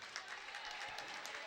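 Crowd applause in a school gym during a 2004 girls' high school basketball game as players are substituted, a steady wash of clapping filling the whole moment at moderate level with no clear pauses.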